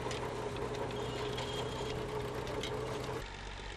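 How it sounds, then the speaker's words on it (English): A vintage Fordson Major tractor with a Perkins six-cylinder diesel engine runs continuously at threshing work in Ireland, a dense, loud, steady mechanical drone that eases slightly near the end. "The big tractor is a Fordson Major with a Perkins six-cylinder diesel engine."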